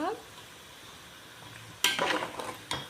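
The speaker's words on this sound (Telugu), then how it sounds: "ఇలా బ్రౌన్గా వేగాలండి చికెన్" Chicken pieces with ginger paste fry and are stirred in a pan for chicken pickle, a soft sizzle running underneath with sudden sharp scraping bursts from the stirring near the end.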